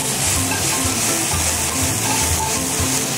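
Pork and vegetables stir-fry in a pan for Korean gochujang pork (jeyuk bokkeum), a loud, steady sizzle running throughout with soft scraping from stirring.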